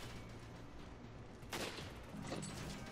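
Rifle gunfire in the video game Resident Evil 5, two sharp shots roughly a second apart ringing out over a low rumbling game backdrop, fairly quiet overall.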